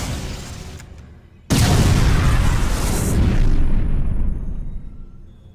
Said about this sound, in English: How about you try using a power bomb?